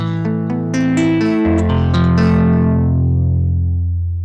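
A sampled synth patch in Bitwig Studio with heat saturation driven to about 12 dB, playing sustained harmonically rich chords with bright attacks, thick low end and a gritty, distorted edge, loud and alone.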